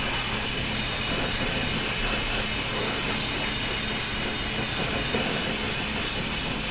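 A continuous, close airy hiss runs steadily throughout, matching gloss primer being sprayed lightly over a 1/25 scale MPC KITT Knight Rider model car kit, with no talking over it.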